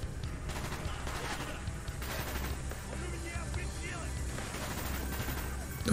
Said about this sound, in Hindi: तो कहाँ से गोलियाँ मार रहे हैं